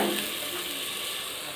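Coriander and mint leaves sauté in a pan for coconut milk rice, giving a steady, close hiss of sizzling with faint scraping and clicking of stirring.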